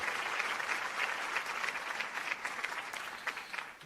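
A small burst of applause during a live pro wrestling talk show, steady, moderately quiet clapping from a modest group that holds for a few seconds before thinning slightly.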